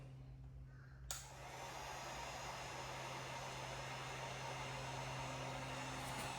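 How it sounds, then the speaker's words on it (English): A heat gun set to low switches on with a sharp onset about a second in, then holds a steady, loud broadband blowing hiss with a constant low electrical hum underneath, running alone without talk while powered from an inverter. "And we're starting with heat gun number 1."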